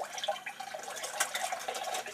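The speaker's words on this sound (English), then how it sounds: "Now, you're rinsing out this bowl." Running water from a tap splashes into a mixing bowl, rinsing out grain residue from a multigrain pancake mix, a steady close hiss with small spattering drips throughout.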